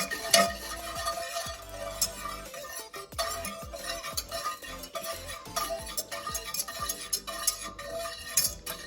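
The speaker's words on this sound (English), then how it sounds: "or actually mix it with whisk" A whisk beating a mixture in a bowl while cooking orange chicken from scratch: continuous rapid scraping and clinking strokes against the bowl, close and busy, with no talking.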